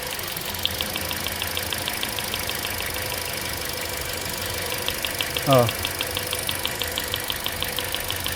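A running Toyota Corolla engine with weak acceleration idles steadily and close, with a rapid, even ticking rhythm throughout and a brief voice heard over it.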